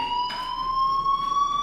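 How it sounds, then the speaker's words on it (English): Fire alarm in the game Life Is Strange, a loud, steady electronic tone with bright overtones ringing continuously and slowly rising in pitch, with brief muffled bursts of noise behind it. "Hey, do you hear that fire alarm?"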